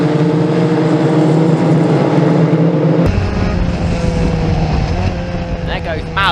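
Historic Formula Ford race cars exit Club Corner at Silverstone in a close pack, their engines making a loud continuous roar that changes pitch as they pass, with a commentator talking over it.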